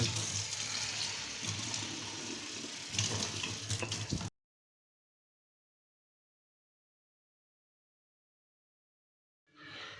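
Tap water runs loudly and continuously with splashing and knocking as a new bottle is washed, then cuts off into silence before a short burst of running water at the end.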